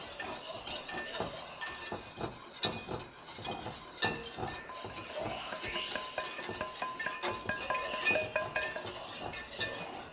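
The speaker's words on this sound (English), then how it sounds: "You can whisk." Mango gelato mixture of milk and cornstarch being whisked, a steady stream of quick metallic clinks and scraping strokes that stay close and fairly loud for the whole stretch, with no voices.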